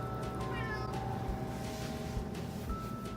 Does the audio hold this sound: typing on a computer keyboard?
no